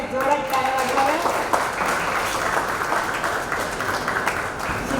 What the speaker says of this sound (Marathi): सगळ्यांनी जोरात टाळ्या वाजवाव्या